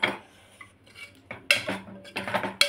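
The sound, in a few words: serving bottle gourd curry with a utensil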